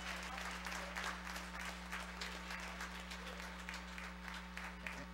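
Church congregation at an usher anniversary service claps in a soft, distant wash of applause over a constant low electrical hum, steady throughout with no voices standing out.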